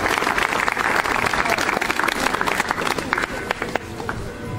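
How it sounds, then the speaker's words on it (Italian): Warm, sustained applause from a crowd at a National Unity and Armed Forces Day ceremony in Montefalcione honoring the fallen, dense and fairly loud clapping that stays steady, then thins slightly toward the end. "rendiamo omaggio ai nostri caduti con un caloroso applauso"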